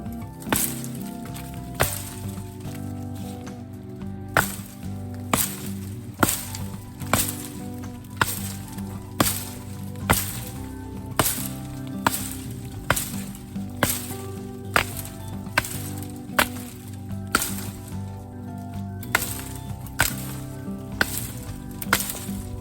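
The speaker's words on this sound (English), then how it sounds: "we're going to get in here and just chop this one" Vintage double bit axe chopping into a honeysuckle bush outdoors, a steady run of sharp, fairly light woody strikes roughly once a second, close and even-paced over a low continuous background.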